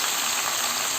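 Banana and potato pieces dropped into hot oil in a kadai for Odia village-style kadali bhaja, giving a steady, close, bright sizzle that crackles evenly throughout with no talking.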